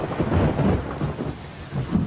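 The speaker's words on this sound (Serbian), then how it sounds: "Ova kiša izgleda ne misli stati." Heavy rain pours steadily with low rumbling thunder rolling underneath, a dense continuous wash of sound close and loud, no voices.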